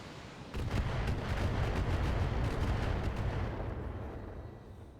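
Mech weapons fire hitting an Atlas in the video game BattleTech, a dense continuous barrage of booming impacts and rapid bursts that swells after a quieter start and then slowly fades, with no talk.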